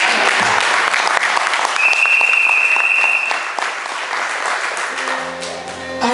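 A church congregation bursts into loud, sustained applause for the preacher during a French-language sermon, dense clapping filling the room before easing slightly toward the end while a sustained musical tone enters.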